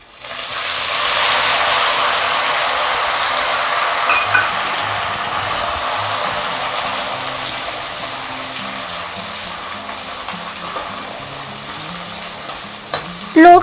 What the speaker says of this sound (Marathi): हिरवीगार कोथिंबीर घेतलेली आहे ती पण आपण आता तळून घेऊया